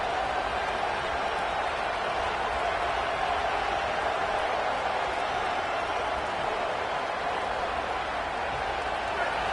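A stadium crowd roars steadily at a college football game in a video game, a dense, unbroken wash of noise that holds at the same level throughout.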